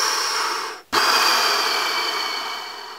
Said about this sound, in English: So breathing, breathing is key.